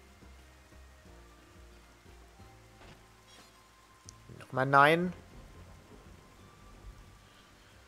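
Steady rain pouring in the video game Xenoblade Chronicles, a continuous soft hiss running beneath a brief burst of German speech and a short game sound in the middle.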